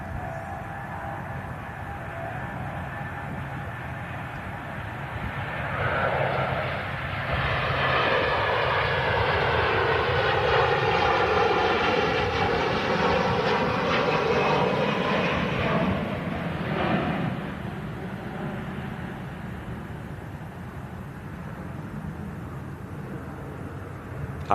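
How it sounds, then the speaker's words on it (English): An Airbus A330 with Rolls-Royce engines takes off at Manchester Airport, its loud jet roar swelling in the middle with a rising whine and rumble, then fading back to a steady distant engine noise. "Power in them Rolls-Royce engines. Taking the A330 to the skies."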